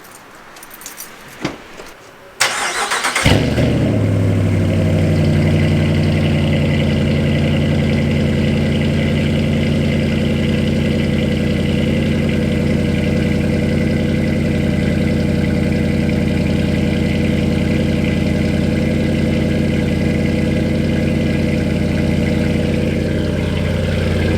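Keys rattle, then a Ram 1500 5.7 Hemi V8 pickup with an MBRP 2.5-inch catback exhaust cranks and catches with a roar before settling into a loud, steady, rumbling idle that carries on alone.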